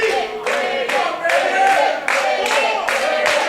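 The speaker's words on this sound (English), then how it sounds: "Crowd trying to rally Kid Bandit back into this match." Crowd at a wrestling student showcase claps in a steady rhythm, trying to rally a flagging wrestler; loud, continuous rhythmic clapping with some voices mixed in.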